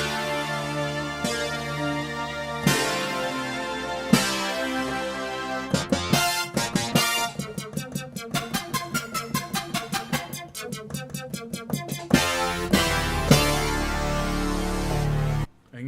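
Full-band arrangement of a song running through a verse, build-up and chorus, with guitar and keyboard parts changing their effect sound between sections; dense, loud and steady with a driving pulse and no talking.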